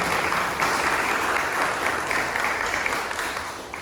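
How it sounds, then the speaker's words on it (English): Audience at a fireside chat with the Solar One chief executive breaks into applause, a dense, even wash of many hands clapping at moderate volume for several seconds, easing slightly toward the end. "I think that's worthy of a round of applause for the investment in the focus."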